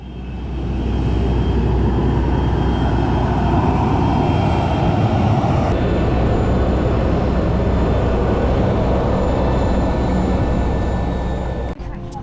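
Steady, loud jet cabin roar inside a Ryanair airliner on a low-cost flight from Manchester to Eindhoven, a constant broadband rush of engine and air noise with a faint shift partway through.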